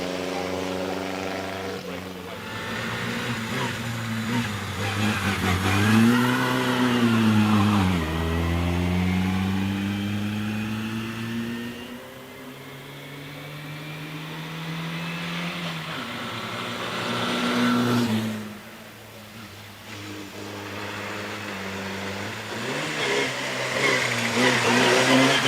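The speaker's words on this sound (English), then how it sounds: "up to the line comes a minimalist Austin 7 Special called Simplicity" A minimalist Austin 7 Special called Simplicity accelerates away at the Prescott hill climb, its engine note rising and falling through gear changes and fading as it climbs, loud and fairly near.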